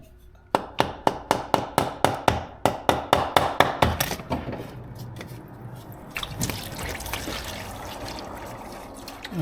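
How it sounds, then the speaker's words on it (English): Rubber mallet taps on the transmission pan of a Chrysler Town & Country, about fifteen sharp, evenly spaced knocks, followed by transmission fluid trickling and dribbling into a drain pan below. "Now I can go ahead and use my rubber mallets and tap the pan and allow the fluid to drain"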